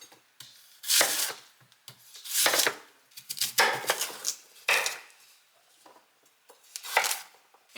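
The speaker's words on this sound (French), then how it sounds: "venir éplucher notre patate douce et de la couper en cubes" A knife chops peeled sweet potato into cubes on a board: a series of close, crisp cuts in uneven bursts with short pauses between, and no talking.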